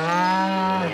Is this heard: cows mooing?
yes